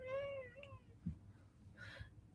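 A house cat lets out a clear, drawn-out meow near the start, followed by a shorter chirping meow and then quieter rustling and a soft breathy sound, all fairly close and with no talking.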